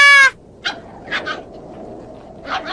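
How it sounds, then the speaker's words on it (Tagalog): A small dog in the anime Flame of Recca gives a few short whimpering yips, spaced apart over quiet background hiss, with a brief tonal beep at the very start. "Ang cute ng aso!"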